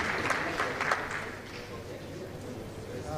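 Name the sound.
audience applause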